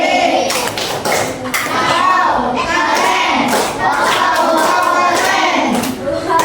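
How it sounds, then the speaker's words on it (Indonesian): A classroom group of students does a 'tepuk keren' rhythmic clapping routine, loud and close, with bursts of hand claps and taps mixed with excited voices throughout. "Yuk kita kasih tepuk keren, yuk."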